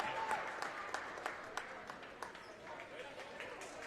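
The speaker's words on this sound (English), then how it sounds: "a nice hand from the crowd" Crowd applause in a gym after a girls' varsity basketball win, a steady wash of clapping with sharp individual claps popping through, moderately loud, while a voice talks over it.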